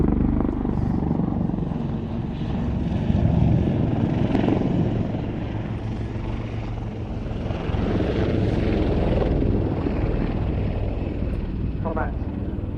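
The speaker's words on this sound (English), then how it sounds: "Oh boy, helicopter time, you better believe it." A helicopter flies at the Cosford air show, its rotor and engine making a steady, loud, broadband roar that stays continuous throughout, with a faint voice speaking under it.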